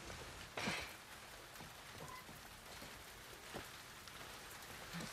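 Steady light rain hisses across the whole stretch in The Last of Us Part II, a soft, even patter with no voices over it.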